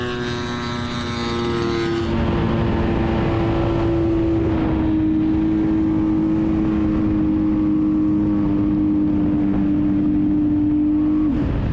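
A radio-controlled model airplane's small engine drones steadily overhead in flight, its high-pitched tone sliding slightly as the plane banks, loud and continuous throughout before cutting out abruptly at the end.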